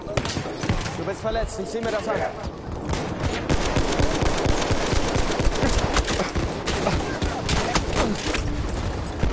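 Rapid bursts of gunfire from a Battlefield 1 match pound steadily throughout, dense and loud, with players talking over the shooting.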